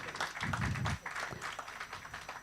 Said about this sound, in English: A big round of applause for Sir, please